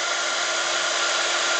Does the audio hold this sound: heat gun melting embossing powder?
yes